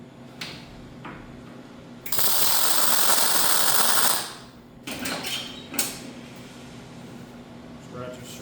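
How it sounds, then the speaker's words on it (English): A ratchet strap is cranked tight in a welding shop, giving a loud sustained rasping burst of about two seconds followed by shorter clicking ratchet strokes, close to the microphone over a steady shop hum. "we're gonna do the old ratchet strap trick"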